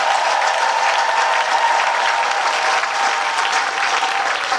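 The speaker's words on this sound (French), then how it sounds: "acclamons fort pour le Seigneur" A church crowd applauds at an evangelism gathering in a parish, a dense, steady wash of clapping that fills the space, loud and continuous throughout.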